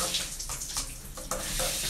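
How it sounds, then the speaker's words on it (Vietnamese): Running water rinses soap off a poodle puppy during a bath, a close, uneven splashing rush with bursts as the stream hits fur and skin, no speech. "Xả nước cho nó hết xà phòng đi."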